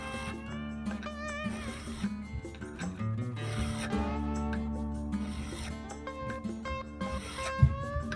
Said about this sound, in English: I've got some round files, and the bar is aluminum, so it's pretty easy to file this